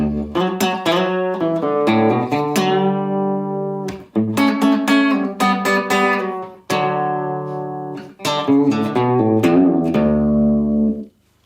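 A solo guitar in drop D tuning plays the intro riff of a song in phrases separated by short pauses, notes and chords sustaining clearly with no talking.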